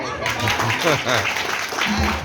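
Applause from an audience at a talk, a sustained patter of clapping mixed with a voice speaking over it throughout, fairly loud and close.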